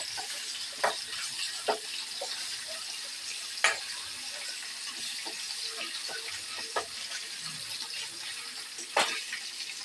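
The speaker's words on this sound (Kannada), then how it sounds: "ಈಗ ಇದಕ್ಕೆ ಶುಂಠಿ ಬೆಳ್ಳುಳ್ಳಿ ಪೇಸ್ಟ್ ಹಾಕೊಳ್ತಾ ಇದ್ದೀನಿ. ಶುಂಠಿ ಬೆಳ್ಳುಳ್ಳಿ ಪೇಸ್ಟ್ ಹಾಕಿ ಸ್ವಲ್ಪ ಫ್ರೈ ಮಾಡೋಣ." Ginger garlic paste fries in hot oil with a soft, low sizzle, broken by sharp clicks and scrapes of stirring at irregular intervals.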